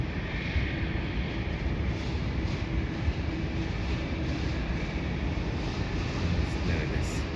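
A Boeing 777 arriving from Auckland comes in to land, a loud, steady broadband roar that holds evenly throughout, heard from the ground at a plane-spotting spot.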